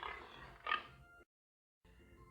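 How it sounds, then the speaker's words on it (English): An American Hampshire pig gives a couple of short, rough grunts close by, the second louder, followed by a silent gap and then faint low background sound. "The American Hampshire pig came from the USA."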